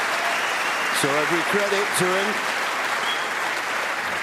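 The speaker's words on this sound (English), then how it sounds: "great appreciation from this 1900 crowd and the Alexandra Palace" A 1900-strong snooker crowd at Alexandra Palace applauds at the 2019 Masters semi-final, O'Sullivan against Ding: a steady, dense wash of clapping that fills the hall throughout, with a commentator's voice briefly over it.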